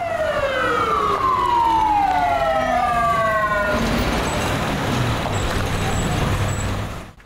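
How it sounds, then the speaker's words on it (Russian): Fire engine sirens wail loudly as several fire trucks arrive at a burning shopping centre, the rising and falling tones sweeping over heavy traffic noise before giving way to a broad, roaring wash of engine and street sound. "Через считанные минуты после того, как сработала пожарная тревога, к месту ЧП уже съехались несколько единиц пожарной техники."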